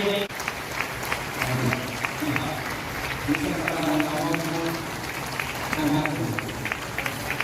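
Steady group clapping rolls on at a product presentation event, a continuous mid-level patter of many hands with people talking over it throughout.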